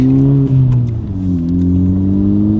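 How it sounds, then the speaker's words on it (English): Honda Civic Type R fitted with an MBRP 3-inch triple-rear-exit cat-back exhaust drives on a highway, its deep, droning exhaust note steady and loud, with a brief pitch dip as it shifts. "this is a super big and deep exhaust note"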